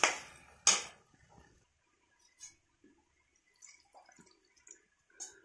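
Capsicum is rinsed under running water in a village kitchen, with a couple of sharp splashes at the start and then sparse, faint drips and trickles spread across quiet pauses.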